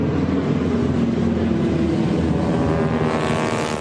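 A World War II warbird's 1,400-horsepower radial engine runs loud and close, a steady droning rumble that holds level before easing slightly at the end.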